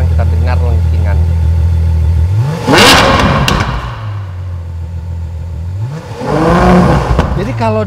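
A warm Ferrari FF engine revs up from idle twice, rising to a loud, sharp, trumpet-like wail and falling back to a low idle hum between the two revs, heard close with voices speaking over it.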